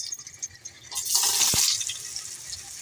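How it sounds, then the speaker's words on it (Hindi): Cooking oil heating on full flame in a pan gives off a steady, soft hiss and sizzle that swells after a quiet start, with a brief crackle midway, close by and alone. "ऑयल हमारा माशाल्लाह फुल फ्लेम पर गर्म हो चुका है, आप इसकी आवाज़ सुन सकते हैं।"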